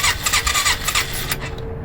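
A 1995 Polaris Magnum 425 ATV engine, run on a stand, cranks with several quick rhythmic starter bursts, close and loud, then settles into a rough idle hum.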